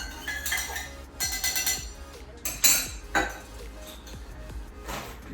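A spoon or stirrer mixes a cordial cocktail in a glass, making bright clinks and scraping rattles in uneven bursts, close and fairly loud, with no talk.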